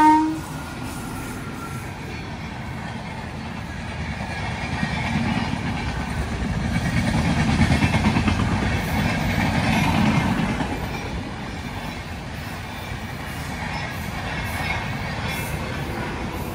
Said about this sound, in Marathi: आपली कोकण रेल्वे येत आहे, बघू शकता तुम्हाला कोकण रेल्वेचं दर्शन होत आहे